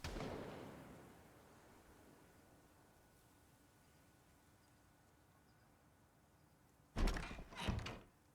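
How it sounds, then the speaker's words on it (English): A gunshot in the Project Zomboid zombie survival game cracks out as two quick, loud blasts close together near the end, after a long stretch of quiet background hiss. "I think that was just a gunshot."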